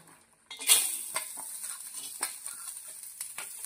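Grated coconut dry-roasted on its own in a pan: a spatula clatters in, then a soft steady sizzle with repeated scraping strokes and light clinks against the metal, close by and with no talking.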